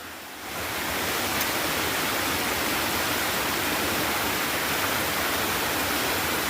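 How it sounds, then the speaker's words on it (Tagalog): A hidden waterfall high in the mountains pours down in a steady, loud broadband roar that fills the whole stretch without pause, no voices over it. "Talagang falls ito."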